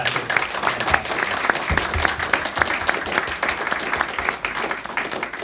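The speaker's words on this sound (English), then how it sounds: "So I want to give them another round of applause for all their efforts." Audience applause at a chapter event, a sustained round of dense clapping from a crowd, fairly loud and even throughout, with no talk over it.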